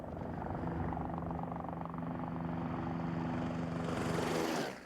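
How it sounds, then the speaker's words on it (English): A 640-horsepower news helicopter over Arizona in the late 1980s drones with a steady rotor thrum and engine whine, loud and constant before cutting off sharply at the end. "With the 640 horsepower this helicopter develops, you might think that it's hard to control"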